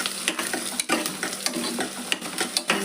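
Green chilies frying in hot oil for a vegetable pulao, with a steady close crackle and sizzle, sporadic pops and spoon stirring scrapes, no voices.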